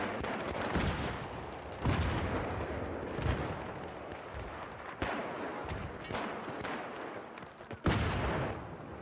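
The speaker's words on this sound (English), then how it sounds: "That's some strong grenades." Battlefield 3 combat on PS3 with repeated grenade blasts and gunfire, several sharp heavy bursts landing every couple of seconds over a constant rumbling battle din, fairly faint overall.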